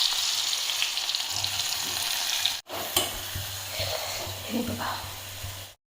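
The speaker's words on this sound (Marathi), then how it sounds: "तर आता तुपामध्ये घेतलेत ब्रेड गरम करायला." Bread warming in ghee in a pan, a close steady sizzle with stirring scrapes, briefly cut off midway, while someone speaks a few words over it.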